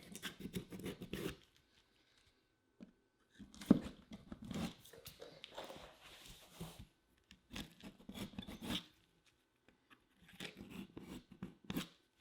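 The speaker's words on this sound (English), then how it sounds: "I use the X-Acto knife to cut all the way through." An X-Acto knife cuts through interior drywall to fit an electrical box, giving quiet, close scraping and rasping strokes in irregular bursts separated by short pauses.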